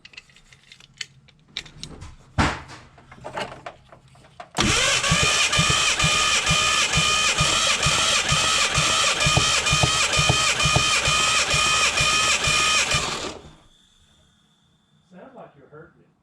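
A Ford Bronco II engine cranks over on the starter during a compression test, a loud rhythmic chugging lasting about nine seconds before stopping abruptly, preceded by scattered clicks and handling noises.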